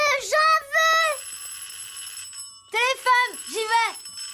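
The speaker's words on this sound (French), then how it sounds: "Téléphone, j'y vais." A telephone ringing in a French children's cartoon, two bursts of bright electronic trilling rings separated by a pause, with a sustained tone between them and voices talking around it.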